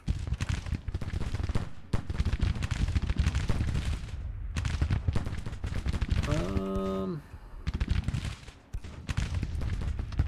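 Massed musket volleys crackle from Civil War infantry lines in Grand Tactician, a dense, rolling fusillade of overlapping shots that briefly drops away around a short tonal sound before the firing resumes.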